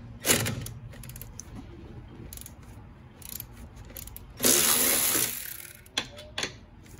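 A ratchet wrench loosens the 13 mm top nuts on the rear strut of a 2005 Dodge Neon, giving clicking, creaking bursts with a longer steady run of ratcheting near the middle, close and alone.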